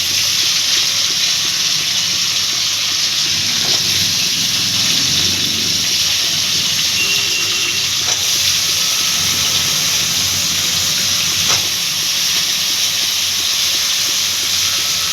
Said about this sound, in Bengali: চিংড়িটা ভাজতে ভাজতে আলুটা ভেজে নেব